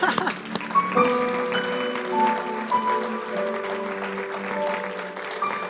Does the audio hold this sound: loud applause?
yes